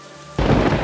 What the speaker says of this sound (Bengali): দেখতে দেখতে বৃষ্টি নামলো খুব জোরে